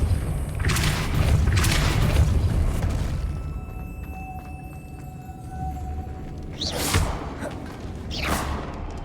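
The Depulso spell is cast in Hogwarts Legacy, producing heavy booming blasts and whooshing bursts over a rumbling game backdrop, with a quieter tonal stretch and then two more sharp swooshes near the end.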